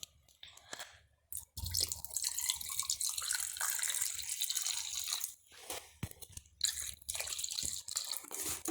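Gasoline poured from above into an engine during maintenance, a steady liquid rush that starts after a short pause, briefly dips and picks up again.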